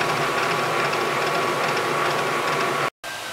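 Lathe turning a shaft with weld build-up while taking light cuts to remove the high spots, a steady loud grinding, clattering mechanical drone that runs continuously, broken by a brief gap near the end.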